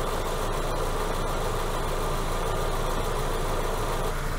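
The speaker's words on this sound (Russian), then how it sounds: "Опять включился вентилятор." Idling Renault Logan fitted with a hydrogen unit, its electric cooling fan running as a steady, dense whirring hum over the engine's even idle, constant and alone with no talk.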